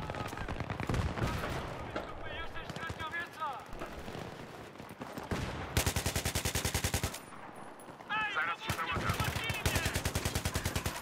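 Rapid automatic gunfire from a Battlefield 3 team deathmatch on the Noshahr Canals map: dense bursts and sustained volleys, with louder close bursts near the middle and end and a player talking between them.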